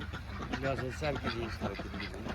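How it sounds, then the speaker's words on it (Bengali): Belgian ducks on a riverside farm give a run of nasal quacks, fairly close and moderately loud, set against a busy outdoor background. "বেলজিয়াম হাঁস তো দেখতেই পাচ্ছেন"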